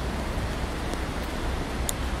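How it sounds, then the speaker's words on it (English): Steady heavy rain pouring outdoors in Greenville, South Carolina, a continuous broadband hiss with no distinct drops, filling the clip evenly at moderate level. "it's definitely a heavier rain that's coming down"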